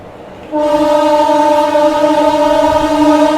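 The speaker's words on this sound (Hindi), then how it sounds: "डिसमिस कर दिया इटावा को हमारी स्पेशल ट्रेन ने।" Special passenger train near Etawah sounds a long, loud horn with steady harmonic tones starting abruptly and sustained, over rumbling wheel and track noise.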